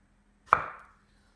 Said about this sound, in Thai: ฟังเสียงหันนะ